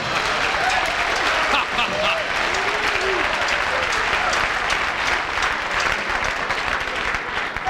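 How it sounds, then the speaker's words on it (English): A studio audience at a late-night television talk show claps in a loud, sustained wash of applause that fills the whole stretch, with voices and laughter faintly mixed in. "That was a wonderful applause."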